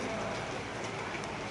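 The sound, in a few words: heavy rain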